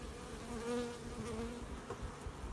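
Honeybees crowd the entrance of a hive in Macahel, Artvin, producing a quiet, steady buzz with wavering drones as individual bees fly close by.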